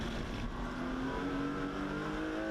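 Porsche 924 race car, number 11, circulating at Snetterton during a championship race, a steady loud engine drone with a slowly shifting pitch, close and continuous throughout.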